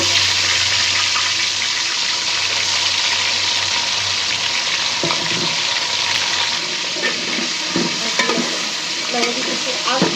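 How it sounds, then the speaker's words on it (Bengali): Pieces of meat go into a pan of frying potatoes, setting off a loud, steady sizzle with scattered scraping and clattering from stirring. No one speaks. "আলু তোলা শেষ হয়ে গেছে, এখন দিয়ে দেবো মাংসের পিস।"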